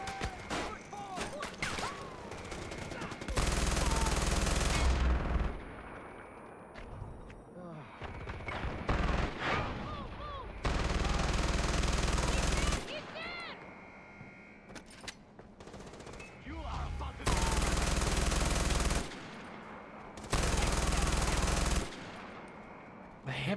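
Automatic weapon fire in the Far Cry 4 video game, loud sustained bursts of rapid shots repeating in several long volleys with quieter gaps, as someone talks between bursts.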